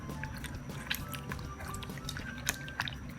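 Water drips and splashes faintly while something is rubbed clean by hand, with small irregular droplet ticks and light sloshing, close and quiet with no talk.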